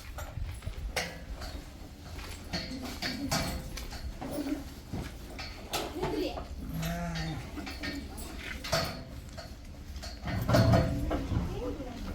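Nellore Jodipi sheep bleat in a pen, several calls scattered among shuffling and clatter while someone talks over them.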